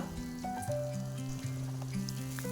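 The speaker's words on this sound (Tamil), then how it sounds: "சின்ன வெங்காயம் ஒரு இருபத்தஞ்சி கிராமாக தோலை எடுத்துகிட்டு குட்டி குட்டியாக கட் பண்ணி அதையும் போட்டுக்கோங்க" Chopped shallots sauté in oil for a garlic-oil brinjal kuzhambu, a faint, soft sizzle running under steady humming tones throughout.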